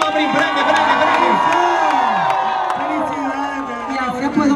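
A crowd cheers and whoops for a young visual artist named Prince at a welcome event in Ponce, with loud overlapping shouts and rising yells over continuous voices.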